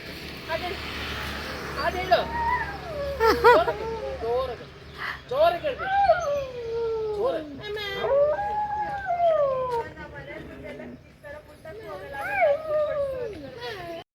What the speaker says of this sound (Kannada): ಆ ಪಪ್ಪಿ ಅಂತೂ ಹಸ್ಕಿ ಡಾಗು ಅವ್ರು ಹಾಡು ಹೇಳು ಅಂದರೆ ಹಾಡು ಹೇಳ್ತಾ ಇತ್ತು